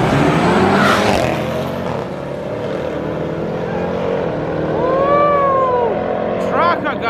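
A BMW M340i and a Jeep Trackhawk street racing at night in Mexico: loud engines roaring and revving, rising and falling as the cars pass close by, with voices shouting over them.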